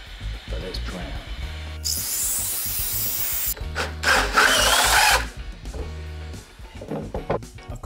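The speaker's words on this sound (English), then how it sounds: "I've got to drill a hole in the centre for the umbrella" A power drill bites into a round wooden garden table, drilling a centre hole for an umbrella, in two loud bursts of grinding whir, with quieter low humming and scraping between them.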